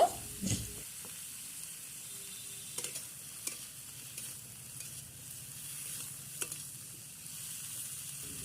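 Fish with eggplant, cauliflower, turmeric and salt cooks quietly in a pan, a faint low sizzle with scattered light ticks and scrapes of stirring, no speech.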